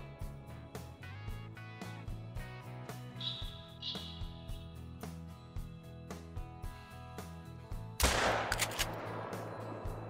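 A single loud shotgun blast from a duck hunt rings out near the end, a sharp, close burst that stands out against steady rhythmic background sound.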